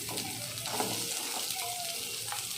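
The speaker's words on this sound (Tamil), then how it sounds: "இப்போ வந்து நம்ம வெங்காயம் தள்ளிக்கலாம்" Onions hit a hot pan of fried lentils and sizzle steadily in oil while making bun dosa, with a close, continuous crackle and occasional stirring scrapes.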